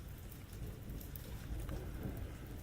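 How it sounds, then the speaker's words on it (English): Heavy rain pours down in a dense, constant hiss with a low rumbling storm beneath, steady and enveloping with no voices. "The rain pours on heavily so. Storms have been raging in Ustalav for a long time."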